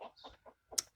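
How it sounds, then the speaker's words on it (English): Rooster clucks and a short call from a backyard flock, a few broken bursts close by ending in a sharp high squawk, with no talk over them. "the old roosters are about making lots of noise"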